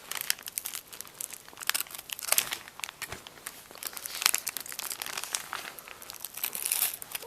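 Plastic packaging around a comic book being cut and pulled open, a busy run of close crinkling, rustling and tearing crackles that swell and fade unevenly, with no talk.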